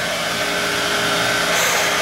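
Compressed air hissing out of an air compressor tank to blow items dry, a loud, steady, close rushing blast that holds for the whole stretch without a break.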